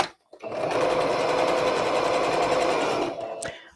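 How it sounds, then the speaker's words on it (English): Domestic sewing machine stitching fabric close to the edge, a loud continuous whirring run of about two and a half seconds that starts abruptly and slows to a stop, with no talking. "I'm going to sew quite close, but not right up to the edge"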